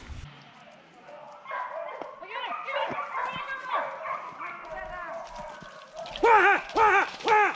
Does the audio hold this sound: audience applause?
no